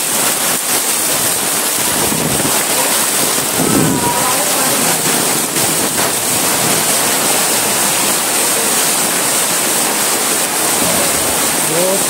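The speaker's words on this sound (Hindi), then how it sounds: "बहुत भयंकर बारिश।" Very heavy rain floods the town of Manasa in Neemuch, a loud, dense, continuous roar of downpour and running water, with brief voices faintly under it.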